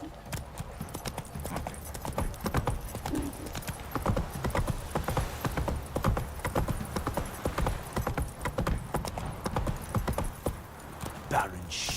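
Roach the horse gallops in the Witcher 3 video game, with rapid, continuous hoofbeats close by and a brief whinny, under light game ambience and occasional talk.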